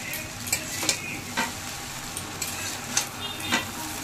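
Peanut chowmein with fried eggs is stir-fried in a pan, a steady close sizzle punctuated by several evenly spaced scrapes and clinks of the spatula.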